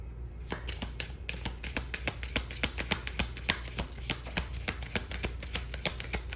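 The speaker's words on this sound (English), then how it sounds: "All right, last shuffle." Tarot cards are shuffled by hand close up, a rapid run of crisp, sharp riffling snaps repeating in a fairly regular rhythm, fairly quiet with no talking.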